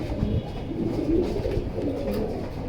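Pigeons, including a Pangi male, coo in soft, low throaty rolls close at hand, the calls swelling and overlapping steadily without any talk.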